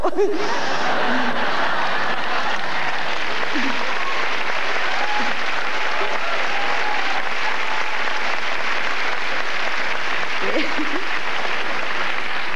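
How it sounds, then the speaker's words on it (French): A comedy-club audience applauds loudly and continuously for several seconds, with scattered laughter and chuckles mixed into the dense clapping, close and full. "C'est la première fois que je me fais applaudir après une relation"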